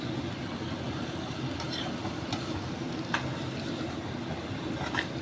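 A bottle gourd and mung dal curry with spices cooks in a pan, giving a constant low frying hiss with a few faint scrapes and taps of a spoon as it is stirred.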